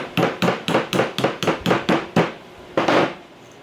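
A plastic mallet taps an indexing stop pin on a Deckel SO single-lip grinder in about nine quick, sharp blows, close and distinct, then a pause and one final knock.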